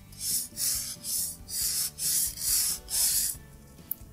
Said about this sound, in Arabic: انا بحاول اصنفر عشان ادي فرصة ان يحصل فيه يعني نوع من انواع التقشير في الخشب او شوية خدوش